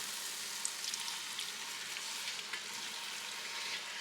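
Homemade gravy made with beef bouillon cooks in a pan, giving a faint, steady bubbling sizzle with small scattered pops, heard alone without talk.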